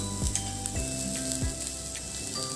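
Turmeric, red chili powder and cumin powder sizzling in hot oil while frying chana masala, a steady crackling hiss with occasional stirring scrapes and no talking.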